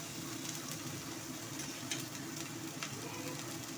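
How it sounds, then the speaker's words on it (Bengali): Spices fry in hot oil in a kadai with a dense, steady sizzle that holds level throughout, close and fairly loud, with a few faint scrapes of stirring. "মশলাটা ভাজা ভাজা হয়ে গেছে"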